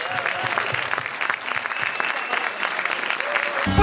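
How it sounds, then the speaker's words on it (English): An audience at a film Q&A for I Love My Mum gives a steady, full round of applause for the cast, producers and director, a dense crowd clapping that lasts throughout. "And a huge round of applause to our cast,"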